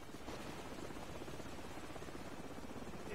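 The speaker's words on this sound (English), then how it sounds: "Hold on, the helicopter's back." A helicopter in the video game Modern Warfare, a dense continuous rotor rumble and whir heard faintly and steadily throughout, with no talking.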